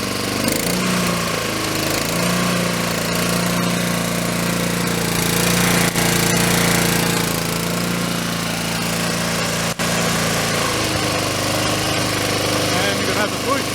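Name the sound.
Honda Harmony II HRT216 lawn mower engine running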